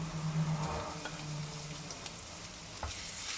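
Small chilies being stirred in a simmering fish broth give a quiet, soft sizzle with a few scraping stirs and occasional light clinks, close but faint, with no voices.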